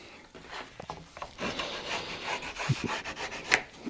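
A custom door panel for a C10 truck is worked by hand, with faint, intermittent rasping and rubbing strokes, uneven in rhythm, close by and quiet with no talking.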